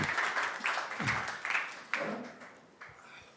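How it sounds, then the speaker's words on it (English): Audience applause at a technology conference as panelists walk on stage, a modest crowd clapping in uneven bursts that gradually thin out, heard from near the stage. "a warm hand of applause for Peter and Deniss."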